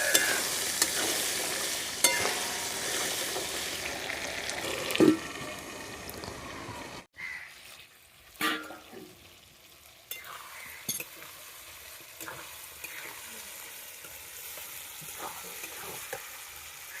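Chickpeas (kabuli chana) dropped into hot oil and stirred, a busy close sizzle with scraping spoon strokes, settling to a quieter, steady fry after a brief pause.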